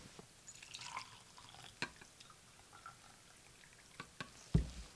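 Firearm suppressor parts drop into a container of cleaning solution, giving sparse, quiet drips and small splashes, with one louder plunk near the end.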